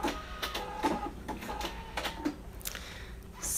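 A Cricut Maker machine working on a Christmas pillow project gives a close mechanical whirring, broken by small clicks and carriage movements, with no one talking.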